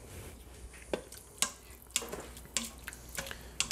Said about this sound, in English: We're gonna stir that up a bit.